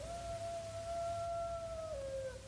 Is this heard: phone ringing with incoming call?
no